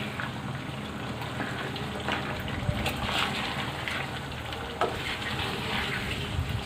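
Chicken pieces fry in hot oil without any added water, with tomatoes and ground spices in the pot, giving a steady, close crackling sizzle with occasional stirring clicks throughout.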